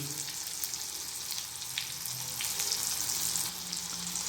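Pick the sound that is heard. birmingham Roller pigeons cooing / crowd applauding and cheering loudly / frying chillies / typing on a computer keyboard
frying chillies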